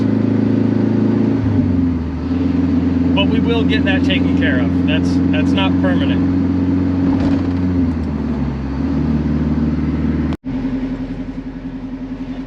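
A turbocharged Honda S2000 with a straight downpipe exhaust under the passenger footwell idles loudly with a steady, deep drone, while someone talks over it before the engine briefly cuts out and restarts.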